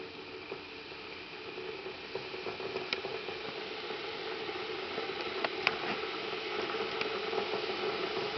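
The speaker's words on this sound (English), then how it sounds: "The water is starting to boil." Water boils in a kettle with a steady hissing rumble and scattered small pops and crackles, continuous and moderately quiet.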